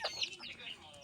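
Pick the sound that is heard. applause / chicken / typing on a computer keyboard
chicken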